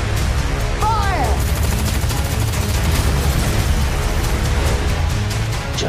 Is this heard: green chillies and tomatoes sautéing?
no